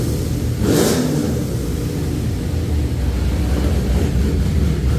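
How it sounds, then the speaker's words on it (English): LS3 Camaro engine droning loud and close with a rough, steady exhaust roar and a brief rise in revs early on. "It's also kind of hard to hear anything with the car this loud."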